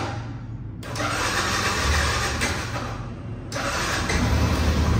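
A 2022 Yamaha FZ-S motorcycle engine starting: a brief quieter lead-in, then the engine catches and runs with a dense, steady roar that surges slightly again near the end, close up and with no talking.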